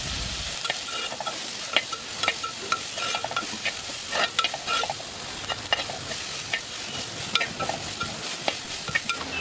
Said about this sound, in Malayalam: പച്ചമുളക്, കറിവേപ്പില എന്നിവ ചേർത്ത് നന്നായിട്ടൊന്ന് വഴറ്റിയെടുക്കാം.